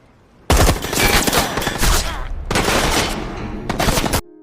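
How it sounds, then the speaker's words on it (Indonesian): Rapid bursts of gunfire from a Russian soldier in a submarine war film scene, a dense, loud volley lasting several seconds with brief pauses between sustained bursts. "Salah satu tentara Rusia juga mengeluarkan tembakan spekulasi dari bawah dan mengenai kaki Martinelli."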